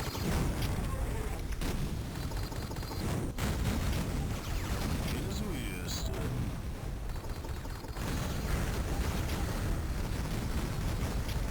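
Dense, continuous booming blasts from the Devastator weapon in Duke Nukem 3D, rapid and loud, filling the whole stretch with rumbling explosions.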